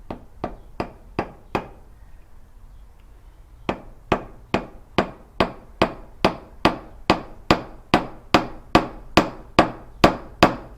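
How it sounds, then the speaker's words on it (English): A chasing hammer flattens a wire ball, about twenty sharp, ringing metallic blows in a steady rhythm, close and loud, with one short pause early on before the strikes resume evenly. "I'm gonna hammer it flat with my chasing hammer."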